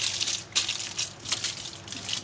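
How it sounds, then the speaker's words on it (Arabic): Aluminum foil crinkles and rustles as it is pressed over a meat dish, with several crisp crackling bursts at close range. "ورق ألمونيا هتغطيه بقى كده اهو بالشكل ده"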